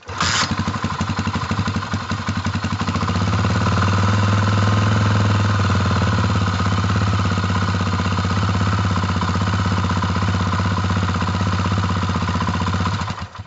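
A Honda XR400 motorcycle engine catches after a kick and settles into a loud, rapid, chugging idle close by, running steadily without voices.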